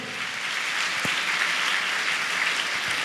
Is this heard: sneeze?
no